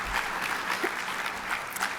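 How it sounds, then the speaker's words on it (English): Steady, dense audience applause fills a hall at an airport business program event in Nashville, continuous clapping from many hands throughout without a break. "that should deserve a round of applause right there"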